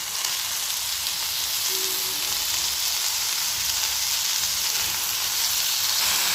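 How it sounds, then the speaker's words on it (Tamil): Steady, close sizzling of tomatoes and onions sautéing in a hot pan for tomato chutney, a constant bright hiss with no talking. "இப்போ தக்காளியை சேர்த்தாச்சு இதையும் சேர்த்து வெங்காயத்தோடு நல்லா வதக்கி வச்சுக்கணும்"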